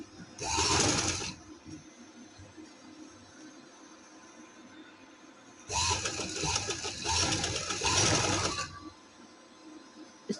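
A sewing machine stitches lace onto fabric for a party-wear dress in two loud, steady whirring runs, one brief burst near the start and a longer stretch later, separated by quiet pauses.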